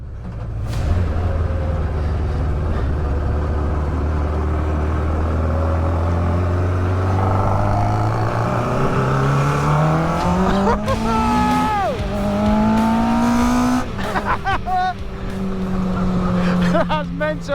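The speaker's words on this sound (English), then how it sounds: "We are in what we reckon might be the world's fastest tuk-tuk." A 1000cc tuk-tuk engine revs and accelerates hard during a ride, its rising engine note climbing through several gear changes with loud wind and road noise, and people talking and exclaiming over it.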